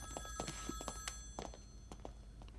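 Telephone ringing indoors in a hospital setting, a faint electronic tone repeating in short pulses alongside soft thumps and movement.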